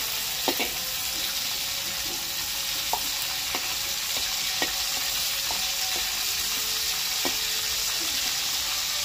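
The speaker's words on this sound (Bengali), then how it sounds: "চিংড়ি মাছটা হালকা করে একটু ভেজে নিয়েছি, এর থেকে বেশি ভাজার দরকার নেই" Prawns sizzling in hot oil in a pan, a steady frying hiss broken by several sharp scrapes and taps of a spatula stirring them, close and fairly loud with no talking.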